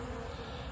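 Bees foraging on pollen substitute give a steady, continuous buzz that fills the short stretch evenly at a moderate, close level, with no voices.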